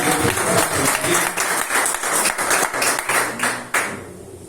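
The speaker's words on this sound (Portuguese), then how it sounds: "Pode aplaudir o Senhor nessa noite." A church congregation at a Pastor Marlon family service applauds together, dense and loud, a sustained wash of many hands that thins out near the end.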